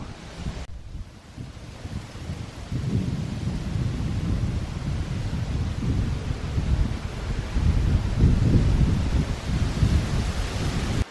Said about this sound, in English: that wind is quite strong actually. It's probably swooping along the little valley and coming up the side here